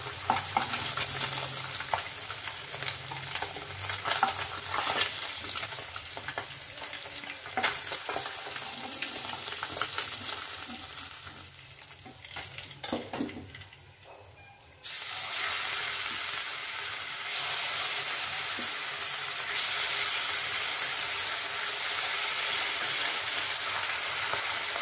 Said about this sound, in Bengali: আমি পরের ব্যাচটাও এরকম লাল লাল করে ভেজে নিচ্ছি।